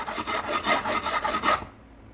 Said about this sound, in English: going in a diagonal motion while keeping the angle of the knife relative to the stone consistent, and then just go straight vertical